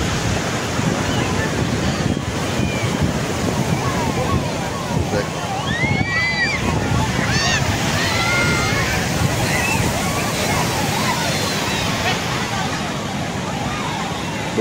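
Sea waves break on the crowded beach at Puri, a continuous loud wash of surf with wind noise, while voices of many bathers and a nearby speaker carry over it.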